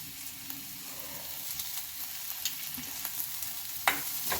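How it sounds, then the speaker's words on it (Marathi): Chopped vegetables with garlic and ginger sauté in a pan for a ragi soup, a soft steady sizzle with occasional light stirring scrapes and one sharper clink near the end. "आपण हे 2 मिनिट छान परतू देणार आहोत"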